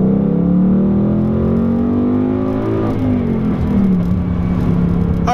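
A 2018 Ford Mustang GT with the performance pack pulls hard, its V8 engine roaring loud and close with a steadily rising pitch, a brief dip around a gear change, then climbing again, with no talking.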